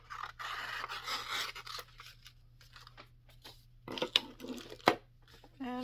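Scissors snip through paper for an Easter envelope, with a short stretch of crisp cutting followed by scattered snips, rustles and a couple of sharper clicks, close and fairly quiet.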